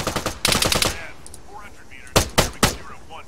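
Gunfire in the military shooter ARMA 3 during a combat patrol: a rapid automatic burst of around a dozen shots, then after a pause three separate loud single shots, with faint game sounds between.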